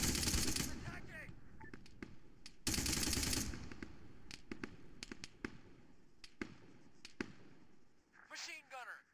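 Machine gun fire crackles in the Arma 3 military shooter during an attack on Girna, with long dense bursts, then scattered single shots and short volleys, while voices call out between the gunfire.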